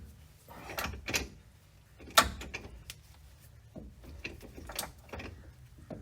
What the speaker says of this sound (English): I have almost no room to use my socket wrench, so it's just like 1 millimeter at a time.